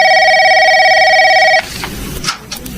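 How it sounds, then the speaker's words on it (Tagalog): A telephone rings loudly and steadily in a home for about a second and a half, then stops, leaving quiet room noise and a few faint clicks. "Nagre-ring yung telepono natin."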